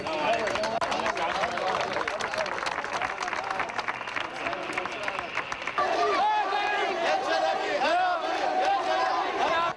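A large crowd of Iraqis clamours around an American army patrol outdoors, a dense babble of many voices with clapping and shouting that swells louder in the second half.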